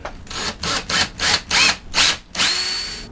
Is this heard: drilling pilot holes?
yes